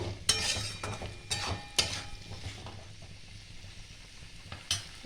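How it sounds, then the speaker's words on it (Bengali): Snake gourd and potato are stirred with a spatula in a frying pan, giving a few close scraping strokes over a soft, low sizzle that fades toward the end. "একটু নাড়িয়ে চাড়িয়ে নেব।"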